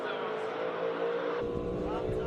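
A 1965 Shelby Daytona Coupe with a 5.7-liter V8 roaring past at a classic car speed event, a loud continuous engine drone that shifts in pitch partway through as it goes by.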